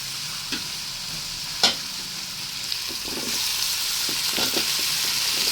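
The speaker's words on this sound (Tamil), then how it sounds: "இஞ்சி பூண்டும் கருவேப்பிலை இதெல்லாம் பார்த்திங்கன்னா எண்ணெயிலே நல்லா வதங்கி வரட்டும்." Ginger, garlic and curry leaves frying in oil give a steady, bright sizzle that swells slightly toward the end. A few sharp stirring scrapes break through it, close up with no talking.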